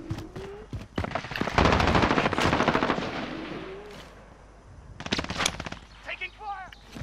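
Call of Duty: Modern Warfare gunfire, a loud sustained burst of rapid automatic shots followed by a later shorter volley, with game voices talking around and between the bursts.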